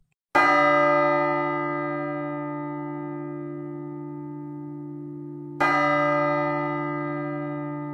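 A church-style bell tolls from the Bells of Peace phone app: two clear, resonant strikes several seconds apart, each ringing out with a long, slowly fading hum, alone and close.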